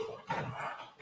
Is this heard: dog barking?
yes